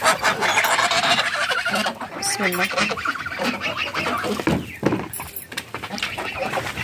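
Chickens cluck and squawk in a busy, close flock while someone talks over them.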